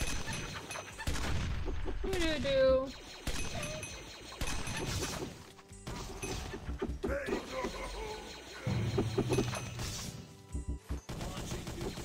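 Missiles fire in a Minecraft Hypixel Smash match as a run of loud, sharp crashes and whooshing blasts that come in quick bursts, with a player talking over the chaos of the game.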